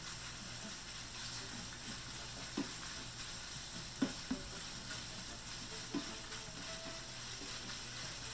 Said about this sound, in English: while the bacon's cooking